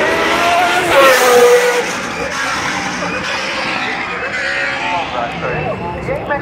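A race car engine revs and whines in the background at a motoring festival while people talk loudly nearby.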